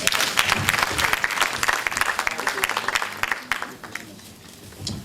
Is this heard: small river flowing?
no